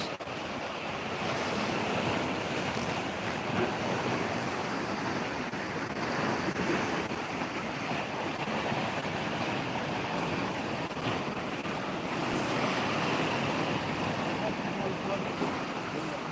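Steady roar of Black Sea waves breaking and washing over rocks at Hamsilos Fjord, Sinop, continuous and fairly loud, with wind buffeting the microphone throughout.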